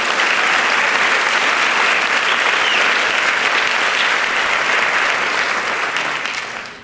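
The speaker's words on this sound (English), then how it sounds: "Let's have another round of applause for that fabulous performance" Loud, dense applause from a large audience at a dance awards event in Miami, following a performance, sustained without break before tapering off at the end.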